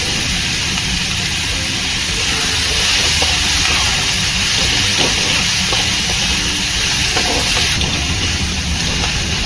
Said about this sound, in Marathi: हे परतून घेऊ आपण चांगलं।